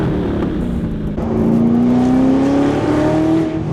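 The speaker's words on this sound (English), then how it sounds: "we put our titanium X-Pipe. Saves a good amount of weight, looks really cool, sounds incredible." A Ford GT with a titanium X-pipe exhaust revs up, the engine pitch climbing steadily into a loud, raspy drone close by.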